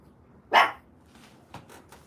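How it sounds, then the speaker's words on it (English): A pet dog indoors barks once loudly and sharply at a kid walking past, followed by a few fainter, shorter yips. "Just because it's a kid doesn't mean you can bark and they'll come play with you."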